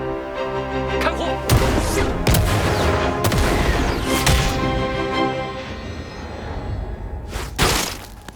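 Gunfire in an animated fantasy series, a new rifle fired during a demonstration: several loud sharp shots ring out over a busy musical score, the first around a second and a half in and another near the end.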